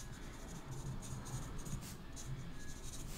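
A pencil draws on paper in a soft, close, continuous scratching with small strokes, quiet and with no talk.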